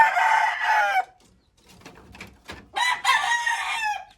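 Pure Maclean Hatch gamecock rooster crowing close by: two loud crows separated by a pause of faint clucks and shuffling, the second crow longer and trailing off.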